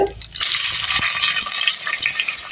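Sliced onions fry loudly in oil in a pressure cooker with biryani masala, a dense close sizzle after an opening clatter, with scraping stirs beneath.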